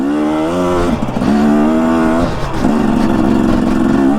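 A motorcycle engine running while being ridden, loud and close with pitch rising and falling as the throttle opens and eases, no speech.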